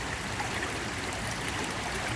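Steady river water rushing and trickling around a Spyderco H2 knife as it gets rinsed in a Smoky Mountain river, a continuous close, fairly loud flow with no voices.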